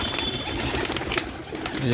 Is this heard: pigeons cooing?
yes